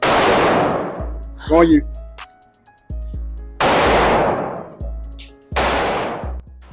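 Pistol shots are fired at 15 yards during a qualification practice: three loud, sharp reports, well spaced, each ringing out in a long decay. A short spoken remark comes between the first and second shot, and there are faint clicks.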